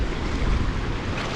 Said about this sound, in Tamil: இப்போ வந்து African side of Indian ocean.